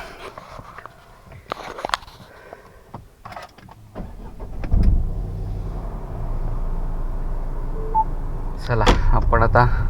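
A parked car's engine starts partway through and idles steadily, with a low rumble building under occasional clicks, knocks and voices that start up again near the end.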